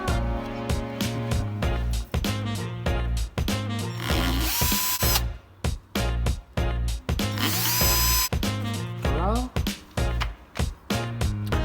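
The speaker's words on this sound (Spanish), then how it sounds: "Marcamos sobre la placa donde vamos a perforar para que sean las guías de los tornillos que vamos a instalar." A power drill bores screw holes into a board for a sliding door rail, with repeated bursts of whining motor that rise and fall in pitch, separated by short pauses and mechanical clicks, loud and close.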